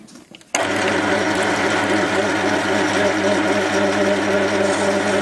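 A metal lathe skims home-cast brass round stock on coarse feed. It starts abruptly after a quiet moment, then holds a loud, steady mechanical drone with a fine gritty cutting texture throughout.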